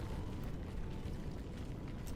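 Explosion in the video game Love and Deepspace, a continuous roaring, rumbling blast with crackling fire-like noise throughout, loud and dense with no talking over it.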